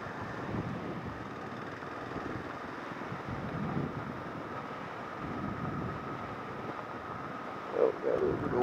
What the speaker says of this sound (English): Oh, got a little bit of wind here.